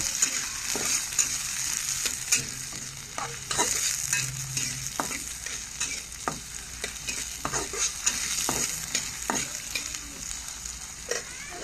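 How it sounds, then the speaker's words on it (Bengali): Chopped tomatoes frying with browned onions in a pan, a steady close sizzle broken by frequent scraping stirs throughout, no voices. "ছোটো ছোটো টুকরো করে রাখা টমেটো টমেটোগুলো আমি একটু নরম হয়ে আসা পর্যন্ত ভেজে নিব"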